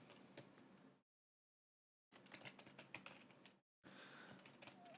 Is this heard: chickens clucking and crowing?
no